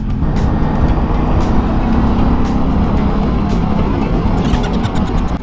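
Steady road traffic and engine rumble heard from a motorcycle riding through congested city streets on the way to Ducati Katipunan, a loud continuous drone with no talk.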